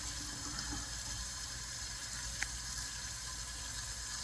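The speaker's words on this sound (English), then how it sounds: "I'm going to rinse it under moderate temperature." Running tap water rinses a set of dentures at a sink, a steady broadband wash of flow continuing throughout with one small brief splash midway, close and fairly quiet, no voices.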